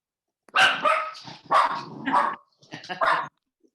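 A puppy yapping in several quick, close, fairly loud barks and yips grouped in short bursts, with brief pauses between them.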